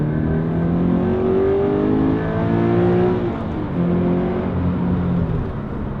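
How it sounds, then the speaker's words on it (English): A 2014 Toyota GT86 engine revs out loudly at close range, its tone climbing steadily toward high rpm, dropping back, then rising again. "Let's rev it out, shall we?"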